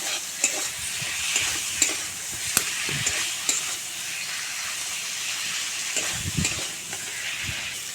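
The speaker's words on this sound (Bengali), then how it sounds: "আমি 1 মিনিট মতো মশলার সঙ্গে পটলটাকে খুব ভালোভাবে কষিয়ে নেব।" Pointed gourd (potol) being stir-fried with spices and slit green chillies in a pan, a steady close sizzle with intermittent scraping and stirring clicks of the spatula throughout.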